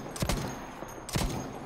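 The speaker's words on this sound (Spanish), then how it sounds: "¡Ametralladora!" Bursts of machine gun fire in a wartime defense scene, two short volleys about a second apart, moderately loud with a rumbling low end and noisy crackle, no speech.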